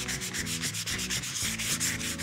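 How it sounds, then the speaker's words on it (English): Sandpaper is rubbed across wood to soften the edges before staining, making close, steady back-and-forth scratching strokes in a quick regular rhythm. "we want to follow up with sandpaper"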